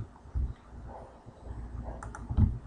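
A few soft computer mouse clicks while building a boxplot graph in JMP software, irregular and close, quiet with light background noise and no speech.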